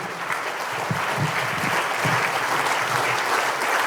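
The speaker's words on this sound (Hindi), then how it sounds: "ये तालियां" Audience applause at a Hindi humour poetry recital in Muscat, Oman: a dense, steady wash of many hands clapping that holds at full strength throughout, with a few faint voices mixed in.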